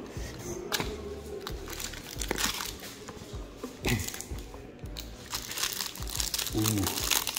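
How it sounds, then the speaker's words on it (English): A Panini Prizm hobby basketball card pack's foil wrapper is crinkled and torn open up close, a sharp, continuous crackling with brief snaps, while a person talks over it. "We'll open up the Luka box first"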